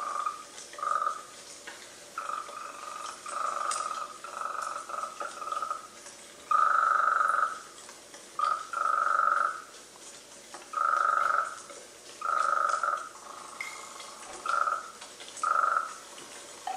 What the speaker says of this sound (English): the first 3 seconds of audio is the recorded sound of the frog. Everything that follows is synthetic and processed